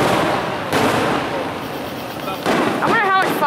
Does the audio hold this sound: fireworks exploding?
yes